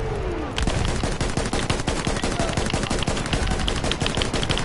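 A video game gun fires continuously in a fast, loud rattle of closely packed shots, starting after a brief quieter lead-in and hammering on without pause, no voices present.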